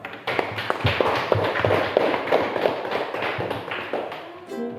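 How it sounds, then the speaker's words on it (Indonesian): A classroom group claps for the first team, a dense run of overlapping hand claps that holds steady for about four seconds and then stops abruptly. "Oke, beri aplaus kepada kelompok 1."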